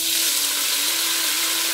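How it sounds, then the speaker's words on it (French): Diced ham sizzles in an already hot pan with oil, a steady, loud, close frying hiss with no pauses and no voices. "Donc, ma casserole est déjà chaude. Donc, je vais rajouter mes dés de jambon."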